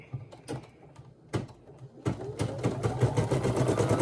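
Sewing machine stitching a shirt, starting with a few separate clunks and short bursts, then settling into a steady rapid mechanical whir of stitching, close and loud with no talking.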